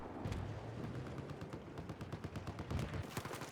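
Rapid tank gunfire and booming shots in a video game battle, tanks pivoting back and forth while trading pot shots; dense, continuous rattling bursts with low rumble, loud and close, no talking.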